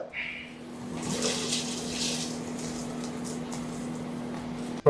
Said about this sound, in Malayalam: വെള്ളം തിളച്ച് വന്നിട്ടുണ്ട്